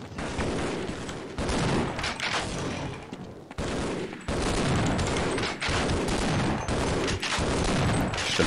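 Sustained automatic gunfire at enemies in Half-Life sounds as a dense, loud, nearly unbroken fusillade of rapid shots, with a brief break partway through before the firing resumes.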